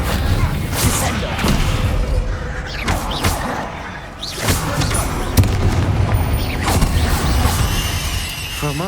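Descendo spell cast in Hogwarts Legacy, a series of heavy booms and slamming thuds over busy combat ambience, with a voice speaking at times.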